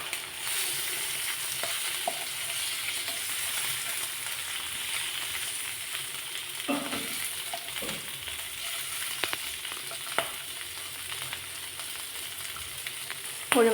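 Malabar mussels (kallumakkaya) fry in a hot pan with a steady, close sizzle, broken by a few louder spatters and turning clatters after the mussels are flipped to cook the other side.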